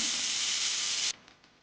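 Pressure cooker cooking toor dal, releasing a steady loud steam hiss for about a second before cutting off abruptly, leaving faint quiet ticks.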